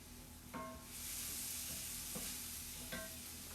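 Red onion, garlic, celery and tomato sauté in olive oil for a frittata, a soft steady sizzle punctuated by three sharp utensil clinks against the pan.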